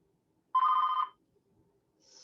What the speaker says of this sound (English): Oh, I clearly did not shut off my phone.